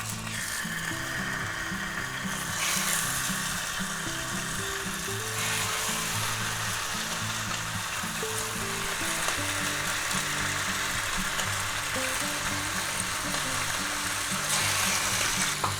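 Turkey meat fries in peanut oil in a hot pan with a continuous, moderately loud crackling sizzle that holds steady for about sixteen seconds, with a rhythmic mechanical clatter beneath it.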